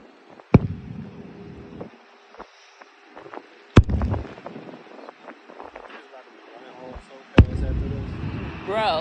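Fireworks at an outdoor show explode in three loud, sharp booms spaced a few seconds apart, each trailing into a low rumble, while people chatter and exclaim nearby between the blasts.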